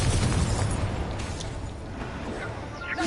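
An Incendio fire spell cast in the video game Hogwarts Legacy, a loud, sustained rushing burst of flame and boom that fills the whole moment, with a faint voice underneath.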